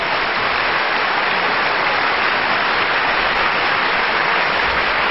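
Audience applause at a French-language comedy or talk event roars as a thick, continuous wash of clapping, loud and unbroken from start to finish with no voices standing out.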